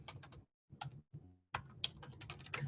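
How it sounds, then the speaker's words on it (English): Bursts of rapid keystrokes on a computer keyboard come close and clear, in short runs broken by brief pauses, with no voice. "To make this easier, I'm just going to type in"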